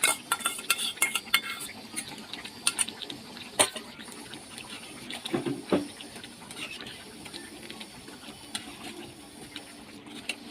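A spoon stirs about four spoonfuls of sour yogurt into chicken simmering in a pot, with clinks against the metal and wet scraping, moderately close with no talk.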